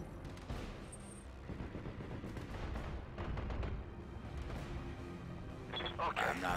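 BattleTech mech weapons fire in a salvo of booming shots and rattling bursts, layered over game noise, at a moderate distance and fairly loud.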